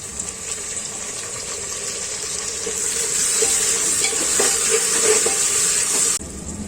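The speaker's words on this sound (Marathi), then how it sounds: "कांदा तळून झाला आहे त्यात टोमॅटो टाकते" Onion frying in a pan as tomato is added and stirred in, a loud continuous close sizzle that swells midway with scraping stir sounds, then drops suddenly near the end.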